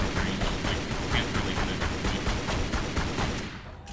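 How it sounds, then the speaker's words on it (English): Rapid continuous gunfire from Lara Croft's weapons in Tomb Raider: Legend, a dense rattling volley of shots that ends with a softer mechanical reload. "So, see, she now reloads."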